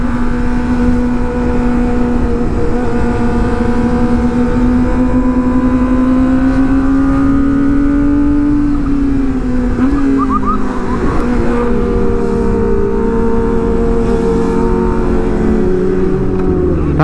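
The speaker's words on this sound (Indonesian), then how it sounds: "Mobil mau nyebrang." A car engine hums steadily and loudly on a road, its pitch rising and shifting as the vehicle moves across and past, with no talk over it.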